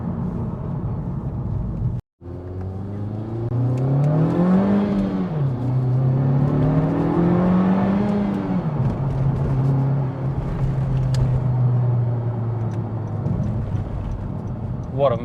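A Honda Civic Type R GT FK2 with a 306 bhp VTEC turbo engine accelerating hard in R mode, the engine note rising and falling through gear changes, loud from inside the cabin, with a brief dropout early on and talk over it.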